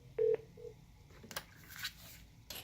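Two short DTMF keypad beeps pressed in quick succession on a desk phone while dialing an extension, followed by softer handling clicks and faint room noise.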